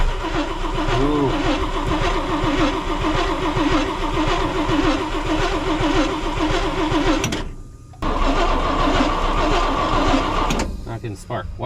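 A 1961 International Harvester B-163 bus engine that will not fire cranks over and over with the starter's rhythmic churning, loud and close, breaking off briefly before cranking resumes and then stops.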